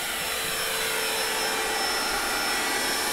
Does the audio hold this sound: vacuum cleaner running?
yes